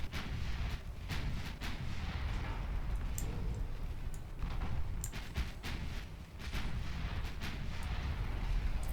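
Naval guns booming in a warship battle game, repeated heavy blasts in an irregular salvo rhythm over a continuous low rumble, loud and close with no talk.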